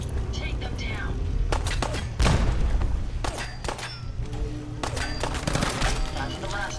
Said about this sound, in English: Ain't my first gunfire, rookie.